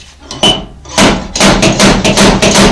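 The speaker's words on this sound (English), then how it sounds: "this slide hammer can be kind of tricky to use" Loud, sharp metallic slide hammer impacts pulling a dent from metal, a couple of isolated knocks then a rapid run of five or six forceful thwacks close by.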